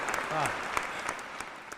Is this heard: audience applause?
yes